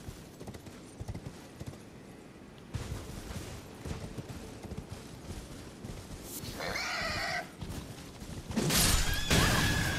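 A horse whinnies loudly amid Elden Ring: Shadow of the Erdtree game sound effects, with hoof clatter and crashes underneath, the neighs rising near the end.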